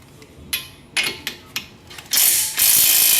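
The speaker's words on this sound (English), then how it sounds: "remove the 2 19 millimeter nuts that are connected to the bolts on the knuckle" A ratchet clicks in quick, sharp bursts while loosening two 19 mm nuts from the strut knuckle bolts on a 2003-2008 Toyota Corolla Type-S, followed by a longer, louder run of rapid ratcheting close by.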